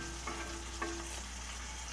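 Onions frying and being flipped in a pan, a continuous close sizzle with a couple of brief scraping turns and a faint tonal hum underneath.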